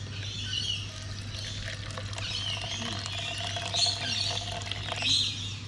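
Water poured into a measuring cup to measure out about 100 milliliters for mixing isopropyl alcohol hand sanitizer, a continuous soft trickling splash over steady low background hum, with faint chirps in the background.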